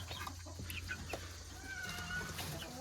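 Chickens on a small farm with goats cluck faintly and intermittently in the background, soft scattered calls over a quiet outdoor ambience.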